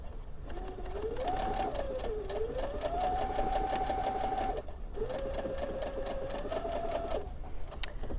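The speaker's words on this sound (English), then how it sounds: "I'm going to sew a 1/4 inch on both sides of that line" A sewing machine stitches quilt pieces with a quarter-inch seam, whirring steadily in two long runs with a short pause between, its motor pitch rising and settling as the speed changes, close and clear.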